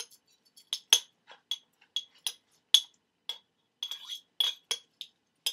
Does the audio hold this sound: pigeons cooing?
no